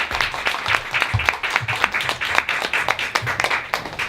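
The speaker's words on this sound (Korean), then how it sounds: "박수 부탁드릴게요." A small office audience at a company lunch talk applauds, a brisk run of distinct, close hand claps rising and falling in uneven bursts for a few seconds.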